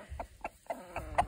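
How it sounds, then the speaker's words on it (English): A rooster tidbitting calls hens to food he has found, giving a quick run of five soft, low clucks close by in an even, rapid rhythm. "the rooster's tidbitting"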